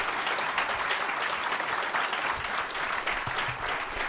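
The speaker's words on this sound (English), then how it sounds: "I did promise them at least one rapturous applause, so maybe will we do it this time for our panel?" Seminar audience applauding the panel, dense continuous clapping at full volume from start to finish, with no speech over it.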